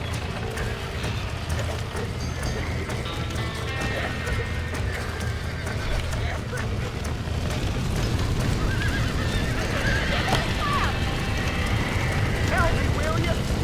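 Horse hooves clop steadily while a horse neighs and whinnies in the video game Red Dead Redemption, mixed with voices speaking and a busy background of rumbles and effects.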